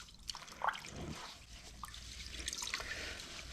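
Water rinsing a freshly cleaned air filter: a soft, steady trickle and splash running throughout, faint and close, with a few brighter drips near the start.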